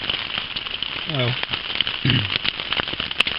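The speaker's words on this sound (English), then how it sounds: "it's raining" Dense, crackling patter of rain falling steadily on a surface, with a couple of brief voice sounds over it.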